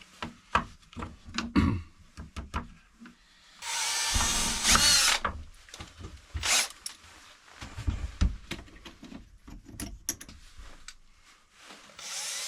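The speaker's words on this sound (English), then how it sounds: "I'm going to drill that hole center mass right here." A power drill whines loudly for a sustained burst, set among scattered knocks, taps and handling noises of work on wood.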